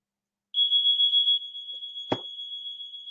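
A smoke alarm sounds indoors during a study session, a steady piercing electronic tone held for about a second before continuing slightly quieter, with a brief low knock partway through.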